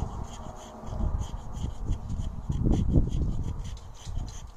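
A Morakniv knife shaves fine curls from a wooden stake in soft, close, rhythmic scraping strokes that continue steadily without a break.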